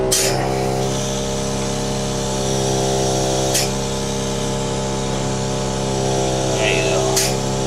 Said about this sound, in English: So the exhaust vent sucks any smells you don't want back here. The electric suction, which is on the wall.